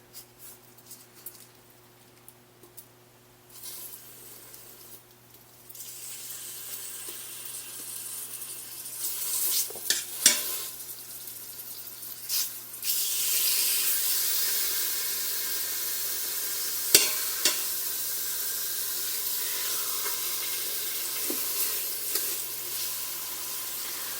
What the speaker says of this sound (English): I'm going to add the chicken thighs into the oil.